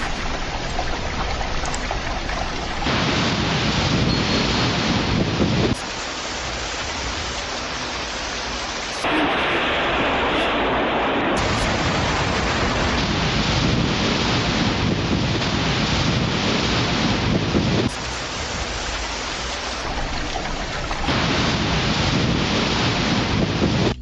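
Brown floodwater churns over submerged rural roads in Shaanxi, China, a loud, continuous broadband rush and roar that swells and shifts in intensity without pause.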